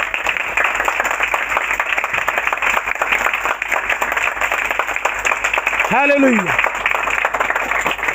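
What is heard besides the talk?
congregation applauding loudly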